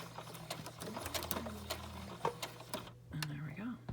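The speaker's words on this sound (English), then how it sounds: "And we're just gonna do our straight stitch here to the end." Sewing machine running a straight stitch through paper and fabric to bind an accordion journal, a steady rapid mechanical chatter with a low motor hum that pauses briefly near the end before starting again.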